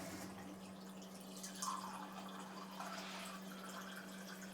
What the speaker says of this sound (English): Clean water comes out.